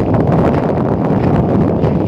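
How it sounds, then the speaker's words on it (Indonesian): Strong wind buffeting the microphone steadily and loudly in a lava-struck hamlet of Lumajang, East Java, a continuous roaring rumble with no let-up and no talk over it. "Angin cukup kencang"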